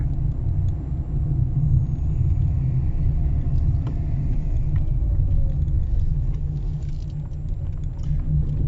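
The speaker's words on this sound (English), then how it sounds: "there's the bus that you can catch" A bus drives by on a road near Myrtos beach in Greece, a steady low engine rumble that holds across the whole stretch under light outdoor background noise.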